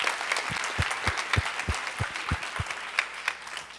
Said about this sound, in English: can we just give Danelle a round of applause for running this?